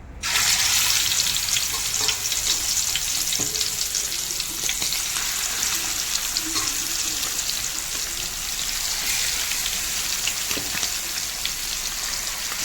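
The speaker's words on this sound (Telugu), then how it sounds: "ఆయిల్ హీట్ ఎక్కుతుంది. మనం పీసెస్ అయితే వేసుకున్నాము." Marinated chicken leg pieces fry in hot oil with a steady, close broadband sizzle and crackle that holds throughout without pause, with occasional faint clinks and no talking.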